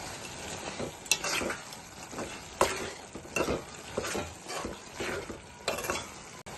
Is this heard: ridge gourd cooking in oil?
yes